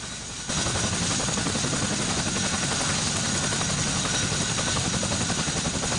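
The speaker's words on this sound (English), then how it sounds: "The Chinook helicopters are primarily used for troop transportation, cargo transport, and aerial resupply missions." A US CH-47 Chinook tandem-rotor helicopter with twin engines thunders loud and close, a dense steady rotor roar rising abruptly after a brief quieter moment and holding without pause.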